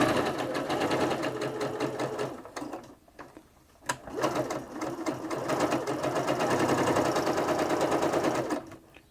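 Singer Quantum Stylist 9960 sewing machine running a straight stitch, a steady fast needle chatter that pauses briefly around the middle, then resumes evenly, close up and fairly loud with no talking.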